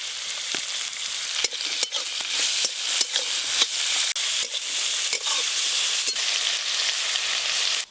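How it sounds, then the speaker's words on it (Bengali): Bitter gourd (uchhe) frying in oil in a pan for a village-style meal, a steady loud sizzle with scattered sharp crackles and stirring knocks throughout, no voices. "এবার উচ্ছেগুলো ভেজে নেব"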